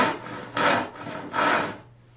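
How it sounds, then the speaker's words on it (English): A cross-cut hand saw cuts through a plywood board in two or three long rasping strokes, close and loud, then stops, with no voices. "I'm going to use the cross-cut saw to cut it off."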